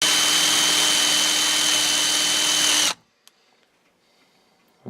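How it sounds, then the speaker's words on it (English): Power drill boring out a broken bolt on a cheap used snow plow truck, a steady loud whine for about three seconds that then cuts off abruptly, leaving near silence with a couple of faint clicks. "So I'm going to drill that"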